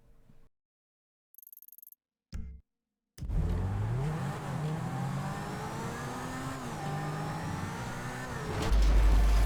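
A car in GTA V engine roars loudly as it accelerates off a jump, revving steadily for several seconds after a few short silent gaps and clicks, then ends with a heavy low thump.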